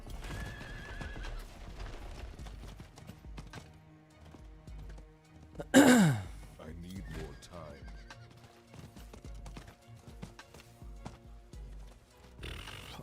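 Horse sounds from the video game Diablo 4: rhythmic clip-clopping hooves throughout, with a sharp, loud neigh near the middle, while someone talks quietly over the game audio.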